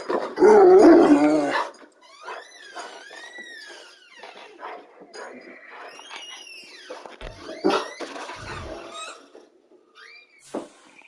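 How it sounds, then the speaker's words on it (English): A dog indoors growls loudly, then yips, whines and gives short barks in varied, rising and falling calls, close by and with no talk. "My dog just came into the room, as you guys can hear."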